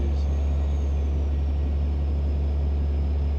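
A low, steady Western Star 49X truck engine in a video game drones on continuously, a deep rumble holding even throughout the short stretch with no talking.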